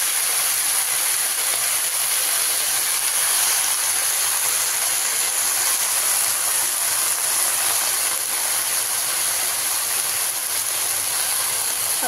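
Washed fenugreek leaves hit a hot pan and sizzle with a loud, steady, continuous hiss that lasts throughout, with no talking.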